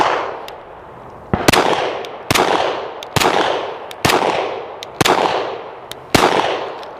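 A Canik TP9SF pistol fires at a range, about seven sharp, loud shots at a steady pace, each followed by a short echoing decay.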